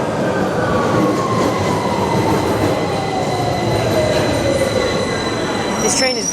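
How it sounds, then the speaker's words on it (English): A London Underground Victoria Line train pulls into King's Cross St Pancras station, a loud steady rumble of wheels on rail with rising metallic squeal as it brakes to a stop in a busy platform hall. "The Victoria Line train has just arrived for Walthamstow Central."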